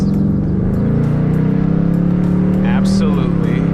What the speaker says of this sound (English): I have the active exhaust in track so you guys can hear, if I roll down the window here